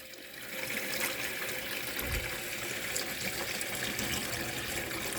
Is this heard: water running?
yes